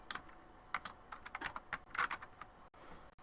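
Keystrokes on an Apple IIGS computer keyboard, a quick irregular run of close clicks and taps that pauses briefly near the end.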